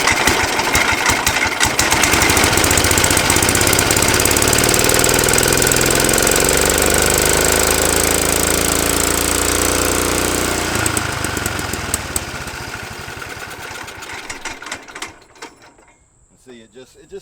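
A Cub Cadet mower's 10hp Kohler engine racing loudly with a rough, knocking roar on full choke, then faltering and dying away toward silence over the last several seconds.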